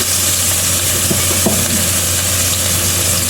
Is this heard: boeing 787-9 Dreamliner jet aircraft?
no